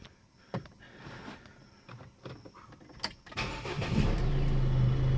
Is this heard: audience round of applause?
no